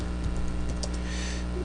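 Fingers tap out a short burst of clicks on a computer keyboard, close and even, with no talking.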